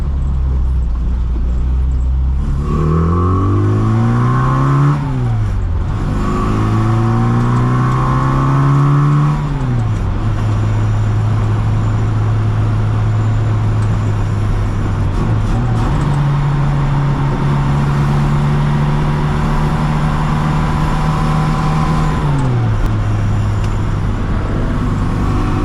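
A 1965 Austin Mini Cooper S engine revs up hard through the gears while overtaking a slow car on a road, rising and falling in pitch with gear changes, loud and close from inside the cabin, alone without talk.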